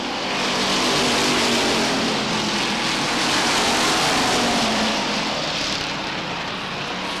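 Race cars at Beech Ridge Motor Speedway in a 1993 weekly race roar past in a loud, sustained engine drone that swells and fades slightly as the pack runs, with no talking over it.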